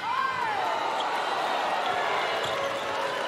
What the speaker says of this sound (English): Crowd involved in this game.